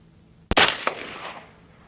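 A single rifle shot firing Fiocchi Range Dynamics 5.56 ammunition, a sharp loud crack with a quick echo trailing off over about a second outdoors.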